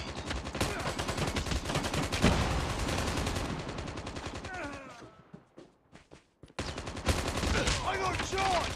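Rapid automatic gunfire in the Call of Duty Mobile shooter, dense crackling bursts that fill the first few seconds, thin out to a near-silent gap, then resume loud and sustained.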